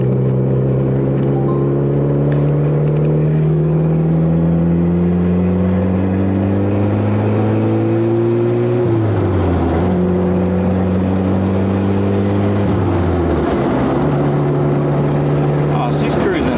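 A turbocharged Acura Integra drives along, its engine droning loud and close as it pulls up through the gears, pitch rising and dropping at each shift, with a voice talking over it at times.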